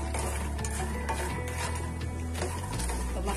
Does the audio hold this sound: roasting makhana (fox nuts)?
yes